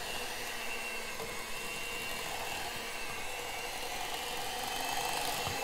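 An electric mixer on its lowest setting whirs steadily while mixing shaving soap, a fairly faint, continuous motorized buzz with a soft rhythmic churn.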